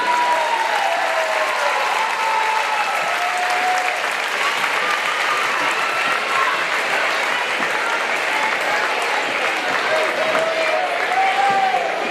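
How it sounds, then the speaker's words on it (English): Steady, sustained applause from a large crowd at a Wildcats vs Logan County basketball game, dense clapping with no breaks, occasional faint whistles on top. "Once again, let's give a big round of applause for David Clark and Kelly Cook."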